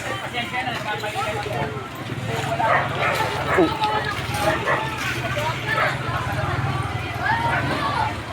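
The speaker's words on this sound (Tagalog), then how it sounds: "Guys, maingay yung aso ko guys eh." A dog barks and yips repeatedly amid a busy mix of voices and background noise, the barking fairly close and persistent.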